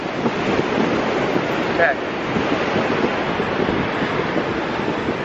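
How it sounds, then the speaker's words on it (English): Strong wind buffets an outdoor microphone with a constant broadband roar, and someone briefly says a word partway through. "So it is quite windy out right here"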